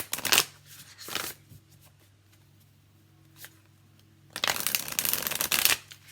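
Modern Love Tarot cards by Ethany being shuffled: a short riffle burst at the start, a softer one around a second in, a quiet pause with light handling, then a longer, loud shuffling run near the end.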